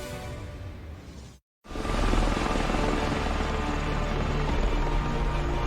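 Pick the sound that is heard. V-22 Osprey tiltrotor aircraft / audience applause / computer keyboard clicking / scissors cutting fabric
V-22 Osprey tiltrotor aircraft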